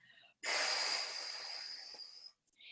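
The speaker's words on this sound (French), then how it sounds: "Inspirez profondément" A deep inhalation during a Pilates class, one long airy breath drawn in close to the microphone for about two seconds, rising sharply then easing off before a brief pause.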